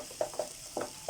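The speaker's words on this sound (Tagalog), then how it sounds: "Halo-haloin natin." Sautéed bitter gourd (ampalaya) with scrambled egg is stirred in a pan, giving four soft, evenly spaced scrapes of a utensil over a faint steady sizzle.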